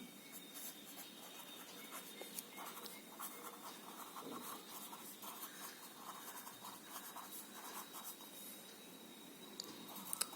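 A pen or pencil scratches across paper while roughly sketching a polygon, faint close strokes in short bursts and lines, quiet and alone without talking.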